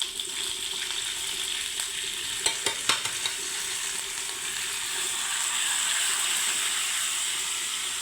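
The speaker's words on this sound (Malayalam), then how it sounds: "കരിവേപ്പില, ഉഴുന്ന് പരിപ്പ്, വെളുത്തുള്ളി എല്ലാം ഇട്ടു." Curry leaves, urad dal and garlic sizzling in hot oil, a steady crackling fry close by, with a few sharp stirring clinks in the middle.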